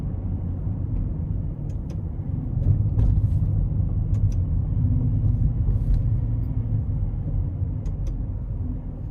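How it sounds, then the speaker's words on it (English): Aston Martin DBX luxury SUV accelerating hard in Sport Plus mode onto an interstate, a loud sustained engine roar and road rumble heard from inside the cabin, swelling and holding steady. "I'm gonna give it a good pull in Sport Plus, getting on the interstate here."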